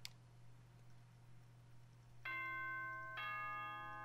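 Nighttime announcement chime from Danganronpa: after a stretch of low hum, two ringing bell-like electronic tones sound in succession and sustain, fairly soft.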